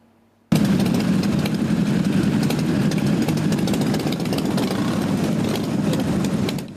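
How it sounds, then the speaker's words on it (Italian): Dozens of Harley-Davidson motorcycles rumble together in a funeral procession, a dense, steady low engine drone that starts abruptly and holds loud and continuous throughout, with no voices. "il rombo dei motori degli amici delle due ruote in sella, le decine di Harley accompagnano in corteo"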